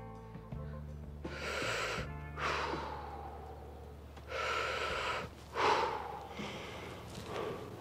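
A shooter aiming a rifle fitted with a red dot sight breathes slow, deep, audible breaths close by. Each long inhale and exhale comes in a steady rhythm over a quiet low hum.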